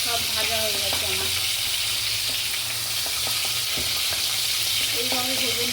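Pointed gourd (potol) frying in hot oil, a dense steady sizzle over a village kitchen stove, with scraping stirs and a few faint tonal sounds in the background.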